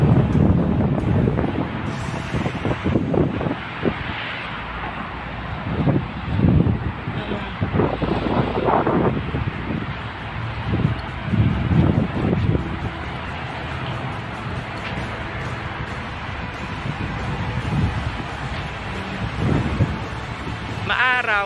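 Strong, cold wind blowing outdoors in Doha, Qatar, with steady broadband buffeting on the microphone throughout and a person talking over it in bursts.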